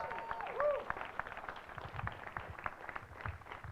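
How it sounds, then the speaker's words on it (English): Scattered, moderate applause from a seated audience at a civic panel event, a brief electronic tone near the start, individual claps audible in a loose rhythm. "Virginia K. Solomon, give her a round of applause."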